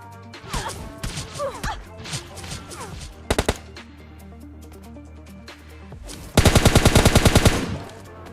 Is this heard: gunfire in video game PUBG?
yes